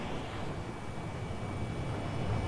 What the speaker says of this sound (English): Oh, wait, there's a jet.